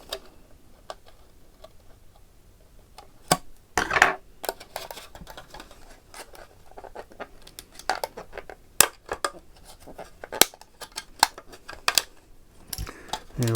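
Scissors or a hobby blade cutting a clear Tamiya Boomerang RC car body shell, heard as scattered sharp ticks and snips in an irregular rhythm, with short pauses and light handling noise.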